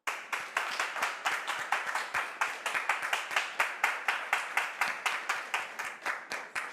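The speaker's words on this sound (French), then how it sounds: "on le reçoit sur ce plateau avec vos applaudissements" Studio audience on a talk-show set claps to welcome a guest, a steady, fairly even rhythm of many hands beating in unison, moderately loud and unbroken, no voices over it.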